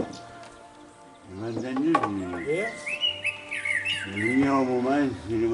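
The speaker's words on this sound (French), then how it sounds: "Écoutez le chant du merle" A blackbird squawks and chirps in a series of loud, whistly calls, with a voice talking faintly underneath at the start.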